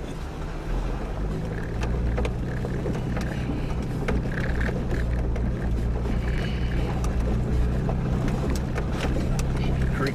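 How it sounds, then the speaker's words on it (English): Creek water running over rocks in wild country, a steady broad rush with low rumble and some wind, continuous and fairly close throughout. "Creek running over."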